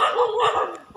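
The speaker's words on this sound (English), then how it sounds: "These dogs are visiting." Several dogs barking loudly and close by in Cambodia, a rapid string of overlapping yaps and barks with a brief pause before another bark.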